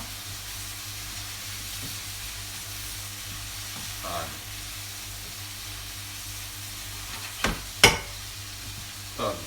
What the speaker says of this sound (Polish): ten odgłos, to jest odgłos smażenia.